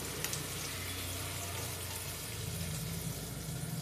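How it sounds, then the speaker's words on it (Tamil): Green chilli and a large onion sauté in a pan for brinjal masiyal, making a soft, continuous hiss with no speech over it. "ஒரு பச்சை மிளகாய், ஒரு பெரிய வெங்காயங்க, எல்லாத்தையும் போட்டு வதக்கிக்கலாம்."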